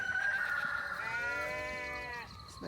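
A goat bleats on a farm after a storm, one drawn-out wavering call close to the microphone with no talking over it.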